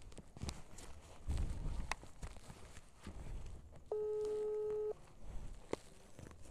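A phone call rings out unanswered as a single steady ringback tone lasting about a second, heard over background noise and footsteps with no talk.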